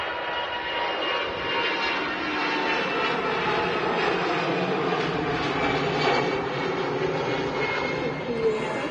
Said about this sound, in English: CF56 engines making a great sound there. The buzzsaw.